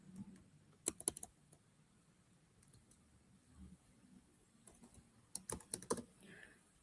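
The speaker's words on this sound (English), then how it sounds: "I'm gonna be typing 1, 2, 3, 4, 5, 6, or I'm gonna change that." Someone typing on a computer keyboard, soft scattered keystrokes that come in two quick bursts with quiet pauses between them, close and fairly faint, with no talking.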